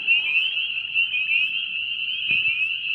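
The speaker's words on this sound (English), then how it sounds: "I'm hearing peepers around here" A dense, steady chorus of high, shrill spring peeper frogs, many overlapping calls, with a faint low thump near the end.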